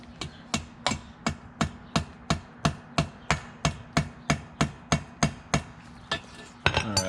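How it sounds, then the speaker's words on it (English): A hammer taps down on a bolt of a truck flag pole mount, striking sharp metallic blows at a steady pace of about two per second, close and distinct, with a faint clatter after the last hit. "I'm just going to try and just tap down on this bolt"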